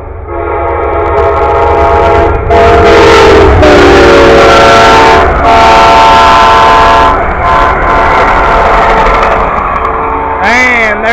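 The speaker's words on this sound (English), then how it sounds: "And there it goes, another train." A train rolls past nearby with loud, sustained rumbling while its horn blasts several times, the last blast bending downward in pitch as the train passes.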